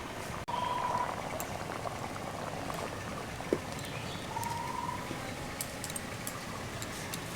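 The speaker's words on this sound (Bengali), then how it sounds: "এখন দেখুন ডালটা কিন্তু একদম ভালোভাবে ফুটে গেছে।" Chana dal (Bengal gram) simmering in a pot gives a faint, steady bubbling and popping, with a soft clink or two of a utensil against the pot.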